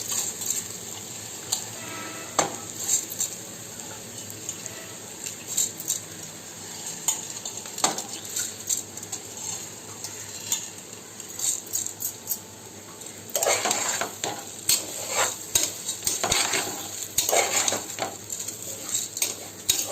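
Rice being stirred and fried in a pot with ginger-garlic paste, garam masala and coriander powder: a spoon scrapes and clinks against the metal pot over a soft sizzle, with scattered taps early and a busier burst of stirring later.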